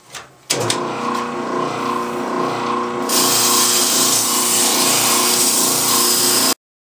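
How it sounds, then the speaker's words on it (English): A spindle sander runs steadily, cleaning up holes in a wooden side panel for a spool rack; a near, continuous whir starts after a brief knock and grows louder and brighter partway through as the wood is pressed to the spindle. "I'm at my new spindle sander here. I'm just going to clean up the holes"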